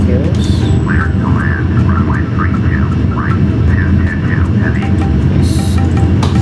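Airbus A340 on landing approach in Flight Simulator X, a steady loud jet and airflow roar throughout, overlaid by a repeated warbling electronic tone and brief cockpit clicks.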